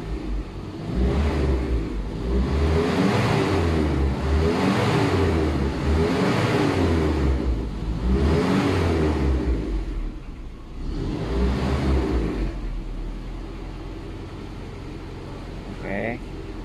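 A Toyota Kijang engine is revved repeatedly during radiator flushing, loud and close, with rising and falling pitch in several long sweeps before it settles to a steady idle hum.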